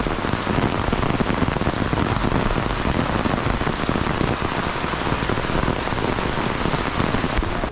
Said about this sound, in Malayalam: മഴ ഇങ്ങനെ തകർത്ത് പെയ്യുവാണ്.